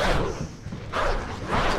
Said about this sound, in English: there are a bunch of dogs barking at my door